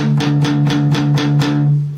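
Electric guitar power chords strum in a quick, even rhythm, about eight sharp chugging strokes with a heavy low drone, ringing loud and close before tapering off.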